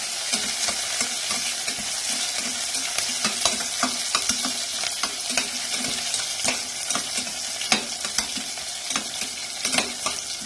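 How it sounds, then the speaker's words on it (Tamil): Sliced onion sautéing in a pan for moong dal pulav: a steady, fairly loud sizzle runs throughout, with repeated scraping and stirring knocks from a spatula close by, and no talking. "ஆனியன் ஆட் பண்ணி நல்லா அது பச்சை வாசனை போகிற அளவுக்கு நம்ம நல்லா வதக்கி விட்டுக்கணும்."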